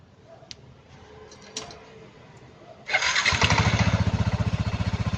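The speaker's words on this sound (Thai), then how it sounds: "เดี๋ยวครูขออนุญาตติดเครื่อง" A Yamaha N-MAX scooter engine cranks and catches after a few quiet clicks, then settles into a loud, close, steady pulsing idle.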